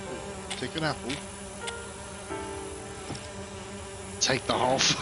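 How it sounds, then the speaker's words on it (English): Bees drone steadily in the Agatha Christie game And Then There Were None, the buzzing rising in short bursts near the start and again toward the end, with a voice faintly underneath. "Bees."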